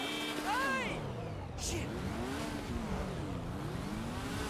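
Car in Grand Theft Auto V, its engine revving and rising and falling in pitch as it accelerates, heard under someone talking.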